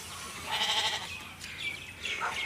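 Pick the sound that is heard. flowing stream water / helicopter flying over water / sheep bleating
sheep bleating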